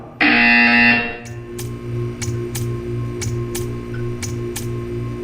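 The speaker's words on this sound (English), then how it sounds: "When you hear the buzzer, stare at the art." A buzzer in the Portal 2 video game gives one harsh, loud buzz lasting about a second, followed by a low hum and a series of regular ticking clicks.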